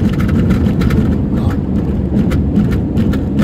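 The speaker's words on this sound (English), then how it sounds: "I'm in a corner now, and there are still rumble strips." A car at 80 drums over red rumble strips through a corner in a fast, steady pulsing rumble, loud and continuous, with heavy low-end road noise as the whole car shakes.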